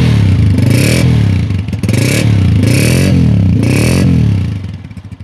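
Running motorcycle engine on a used bike for sale, one of the Honda 125, Yamaha YB 125Z, Honda 70 or Road Prince 70 models, revving steadily and loudly up close in several surges with a rattling clatter, no talk over it.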